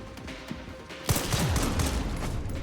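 Gunfire in a film as a character is shot over and over: a burst of loud, rapid shots breaks in partway through and keeps going over a busy, noisy soundtrack.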